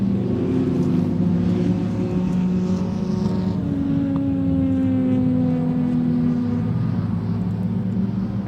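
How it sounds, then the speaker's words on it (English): Davrian T90 race car driving at Pembrey circuit, its engine droning with steady harmonic tones that shift in pitch as it runs, a continuous loud mechanical note throughout. "Wonderful looking car, the little Darien T90."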